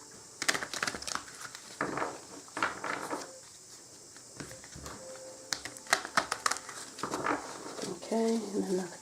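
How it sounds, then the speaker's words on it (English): A tarot card deck is split and shuffled by hand, giving a run of soft papery riffles, slaps and crinkles in uneven bursts, close up, with a faint voice at times. "I will just split the deck a little bit and shuffle."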